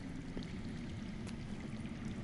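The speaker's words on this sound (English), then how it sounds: "I hear water. From underground." Steady low rushing of underground water flowing somewhere out of sight in the Game of Thrones video game on PS4 Pro, a continuous watery wash heard alone at a moderate distance.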